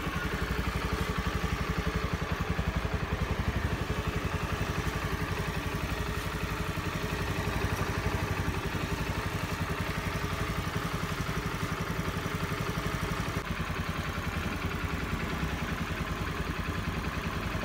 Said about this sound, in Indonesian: Oke, motor sudah hidup dengan normal